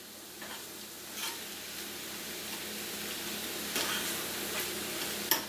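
Bacon, eggs and poke cooking together in a pan, a quiet steady sizzle with occasional stirring scrapes and a sharp clink near the end, heard close with no talking.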